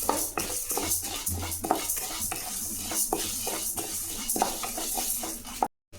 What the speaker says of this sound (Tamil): இதை கம்மி தீயில் வச்சு கருகாமல் வறுத்து எடுத்துக்கணுங்க.